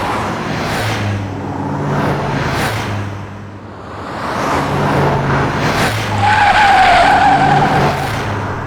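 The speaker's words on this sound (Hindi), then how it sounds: "अरे इतनी तेज गाड़ी लेके कौन जा रहा है?" A car speeds past with a loud, sustained tire skid in a dubbed South Indian film scene, rising and falling engine roar with a long squealing screech near the end, close and dominant, without speech.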